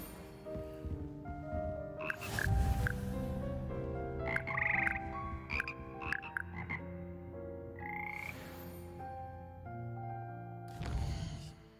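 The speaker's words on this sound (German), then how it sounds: "Hier sitzen die schleimigen und doch melodischen Frösche, die den Froschchor von Hogwarts bilden." Frog choir croaking in Hogwarts Legacy: several frogs calling in tuned, overlapping notes like a small sung chorus, clear and close with no talk.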